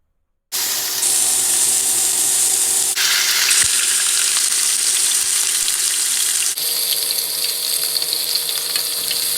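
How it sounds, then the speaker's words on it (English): Pork loin searing in olive oil in a pan, a loud continuous sizzle that begins suddenly and holds steady, shifting in tone a couple of times as the meat moves, with no talking. "Using olive oil, put the meat into the pan."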